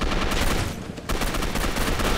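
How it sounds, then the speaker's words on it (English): Gunfire in the video game Gotham City Impostors: a dense, loud run of rapid shots that drops out briefly near the middle, then resumes at the same steady rate. "Why are you shooting at me?"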